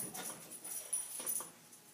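A dog whimpers faintly in a quiet room during a yoga session, a few soft, high, breathy whines in quick succession.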